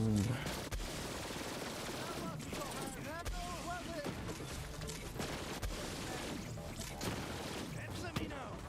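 Rapid bursts of video game gunfire, including a pistol, crackle in repeated volleys throughout, loud and close, with a voice talking over parts of it.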